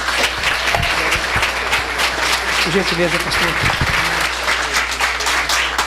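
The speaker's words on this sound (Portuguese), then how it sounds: "Os irmãos recebem o reverendo com a linda salva de palmas." A church congregation gives a loud, sustained round of applause welcoming the reverend, a thick continuous wash of clapping with a low hum underneath while someone speaks briefly over it.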